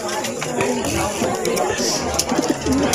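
Pigeons coo in low, throaty bursts amid a busy, noisy background with some indistinct voices.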